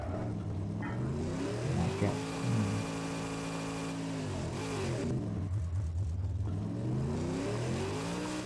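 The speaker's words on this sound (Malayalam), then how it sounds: "ഭയങ്കര സ്കിഡ് ആവുവാന്നേ" Car engine revving and tyres skidding while driving in the Mad Max video game, a steady loud drone with rising and falling engine pitch throughout, no talk.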